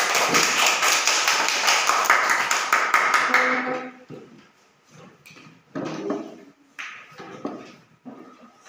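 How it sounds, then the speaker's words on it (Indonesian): A class of students in a classroom claps together for a few seconds, then it stops and a few scattered taps and knocks follow in a quieter room. "Kita tepuk tangan."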